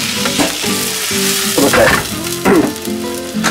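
Hot water poured into a pan of sizzling white wine and butter for a milk-free cream pasta sauce, a loud, close hiss that swells in bursts with stirring, while a voice briefly speaks.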